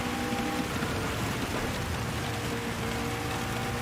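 Heavy rain in the Gran Turismo 7 racing game, a dense steady hiss of downpour filling the whole clip with a faint low engine hum beneath, loud and continuous without speech.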